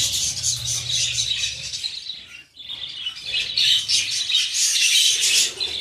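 Budgerigars chirp and chatter continuously in an aviary, a dense, bright twittering of many birds close by with a brief lull midway.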